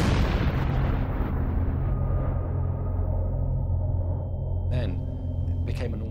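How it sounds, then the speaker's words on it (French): Vesuvius erupting as magma bursts on meeting the air, a massive explosive roar: a dense, unbroken low rumble with layered booms, swelling into sharper crackling blasts near the end. "le magma explose au contact de l'atmosphère"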